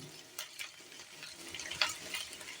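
A capsicum dish with green chilli sauce is stirred in a pan over low flame, giving a faint sizzle with a few light spatula scrapes and taps, quiet and brief, no talking.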